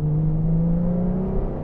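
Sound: Ferrari 812 Competizione naturally aspirated engine revving

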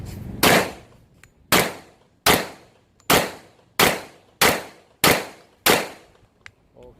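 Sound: test-firing a Kimber Stainless Target II 1911 .45 ACP pistol

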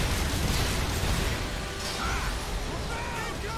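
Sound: missiles exploding in the video game Earth Defense Force 5

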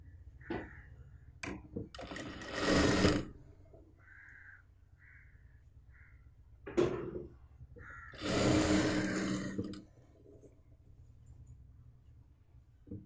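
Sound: sewing machine stitching lining and top fabric of a churidar

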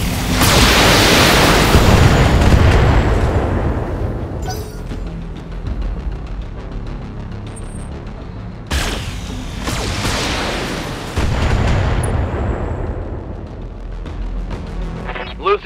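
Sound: mech firing a full weapon salvo in the video game Battletech

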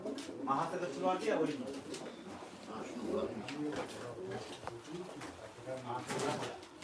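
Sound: pigeons

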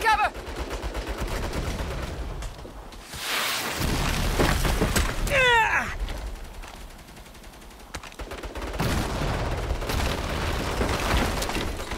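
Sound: turret gunfire in Saints Row video game

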